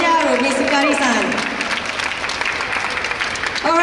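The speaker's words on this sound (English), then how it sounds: "A big round of applause again for Samurai Gyaro, Miss Hikari-san." An audience at a Japanese stage show applauds the performer Samurai Gyaro, Miss Hikari, a steady wash of clapping that starts under an announcer's voice and continues to the end.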